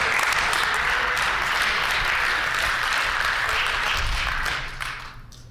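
Sustained applause from the public gallery of a legislature chamber, a dense steady roar of clapping that fades out near the end.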